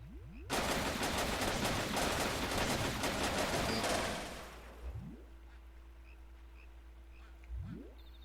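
Rapid gunfire from the Wii Play shooting game rattles loudly for several seconds, then cuts off, followed by a few brief rising bird-like calls against a quiet background.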